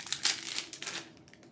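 Golden Tom Ford Soleil Brûlant perfume packaging being unwrapped, close crinkling and crumpling of wrap with a sharp rustle early on, then softer rustles fading out.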